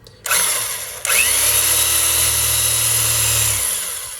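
A power drill with a 3/16-inch bit spins up loudly and whines steadily as it bores into metal, a high grinding tone held for several seconds before easing off.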